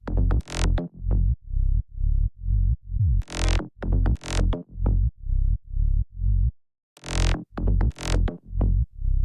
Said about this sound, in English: Start with the bass.